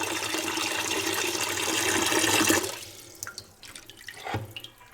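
Water pours and splashes over a rugged waterproof tablet for a few seconds, a loud steady rush that stops abruptly, followed by scattered drips and small splashes.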